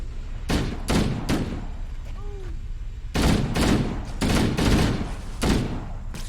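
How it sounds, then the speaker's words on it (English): Bursts of automatic gunfire from Master Chief and a Covenant dropship in Halo: Combat Evolved, loud volleys separated by short gaps, with a brief electronic warble between them and no talking. "Chief stands at the ridgeline and fires until the dropship begins to open fire on him"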